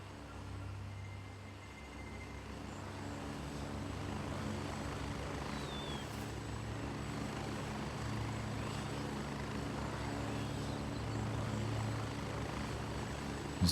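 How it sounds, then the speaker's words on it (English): An enemy helicopter in the shooter game Gray Zone Warfare approaches, its rotor drone a low, steady thrum that swells gradually and holds at moderate distance throughout, with no talk. "Enemy heli coming in."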